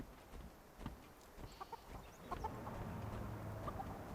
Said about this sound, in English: Ah, there's a chicken cage.